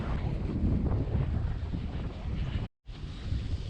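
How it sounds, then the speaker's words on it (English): Strong wind buffets the microphone in a loud, continuous low roar, dropping out briefly near the end before resuming. "Ripples on the water indicate the windy conditions today."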